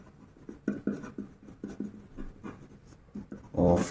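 Pen writing on paper during a Grade 10 maths lesson on prime factors, a run of short scratchy strokes in an irregular rhythm, close and fairly quiet, ending with a louder scrape.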